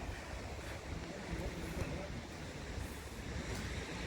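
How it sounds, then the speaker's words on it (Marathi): Ocean waves break at Gavkhadi beach in a constant, soft wash of surf mixed with wind noise, steady and fairly faint throughout. "हा गावखडीचा बीच आहे गावखडी बीच"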